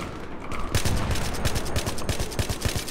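Rapid bursts of gunfire in Battlefield 3 on the Canals map, an AN94 among the weapons, cracking in quick irregular volleys that start after a brief lull and keep going loud and close.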